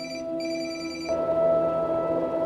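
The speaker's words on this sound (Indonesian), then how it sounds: "memberitahukan jika bunyi telepon itu untuk menjebak Jaksali jika dia menjawabnya" A telephone rings in a Korean drama scene, a steady electronic warble that pauses briefly and then carries on, clear and fairly loud with a dramatic tone entering underneath.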